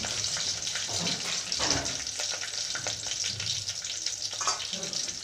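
Green chilies hissing as they drop into hot oil with curry leaves for a spicy toor dal, a steady close sizzle and bubbling with soft stirring and a voice over it.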